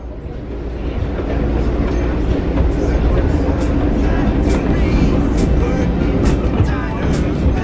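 Amtrak California Zephyr train rumbles through a tunnel, a loud, continuous low roar with rattling carriage noise and faint clacking, heard from inside a coach car.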